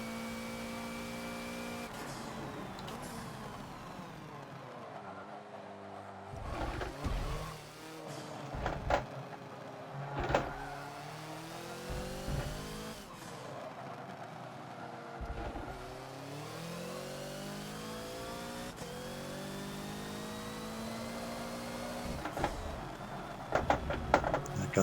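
Hoonigan Ford Focus race car in the Forza video game, engine revving and climbing through gears with sharp downshift blips and pitch swoops around the Yas Marina South circuit, loud and continuous with no talk.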